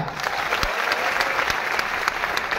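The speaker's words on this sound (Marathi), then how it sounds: "एकदा विचार मंचासाठी जोरदार टाळ्या होऊ द्या" An audience at a speech claps loudly and steadily, a dense crowd applause that holds from beginning to end without pausing.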